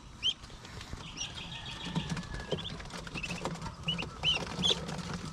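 A flock of ducks chirps and chatters nearby while feeding, with soft pattering and rustling movement underneath, no talking.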